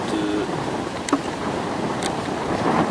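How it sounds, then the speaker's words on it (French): Outdoor wind buffets the microphone in a steady, close rumbling roar that lasts throughout, with no voice over it. "il y a un peu de vent"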